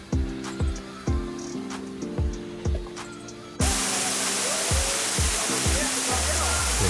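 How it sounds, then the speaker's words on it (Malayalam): A crowded Bali waterfall where people come to shower and swim sends up a loud, steady roar of falling water that abruptly fills the second half, after a short stretch of rhythmic, pulsing sounds. "ഈ കാണുന്നതാണ് വെള്ളച്ചാട്ടം"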